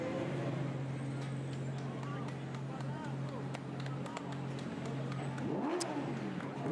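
A Lamborghini Super Trofeo race car at Spa-Francorchamps idles with a steady engine drone, then a quick throttle blip rises near the end before it shuts off, heard faintly beneath a commentator's voice.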